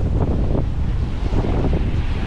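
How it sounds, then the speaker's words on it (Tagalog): Wind roars across the microphone at sea while ocean waves surge and break, a loud, continuous rushing blur with no voices. "Grabe yung alon oh."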